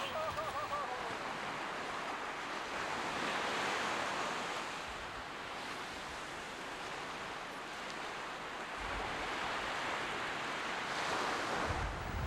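Ocean surf rolls and breaks onto a fishing beach in a steady broadband wash, with wind buffeting the microphone and swells rising and falling over the whole stretch.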